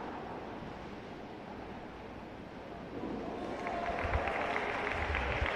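Spectators at a junior world padel championship match between the United States and Spain applaud, a soft wash of distant clapping that swells louder halfway through, with faint voices underneath.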